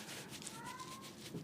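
A pet cat named Mr. Collins gives a short, faint meow indoors, heard alongside quiet background noise and a bit of talking.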